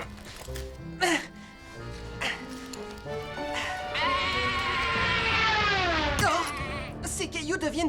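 Several sheep bleat in wavering, drawn-out cries, one long bleat swelling near the end, amid busy background sounds.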